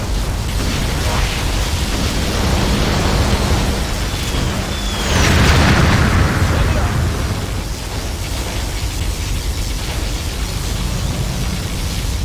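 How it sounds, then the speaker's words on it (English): A loud booming blast from a particle cannon superweapon in Command & Conquer: Generals Zero Hour, with a rushing, explosive roar swelling in the middle, set against constant heavy low rumble and noisy background. "Particle cannon activated."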